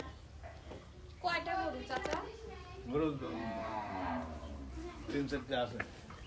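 A cow moos a few times, low and drawn out, while people talk nearby.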